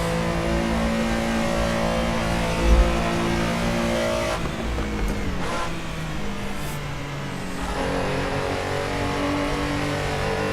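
A Porsche race car in the Assetto Corsa racing game runs with a steady, loud engine drone that dips and surges through gear changes and over-revving, with no talking.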